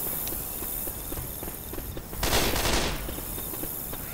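Rapid gunfire crackles in the zombie shooter Left 4 Dead 2, a dense rattle of shots amid game ambience with a louder burst of fire midway.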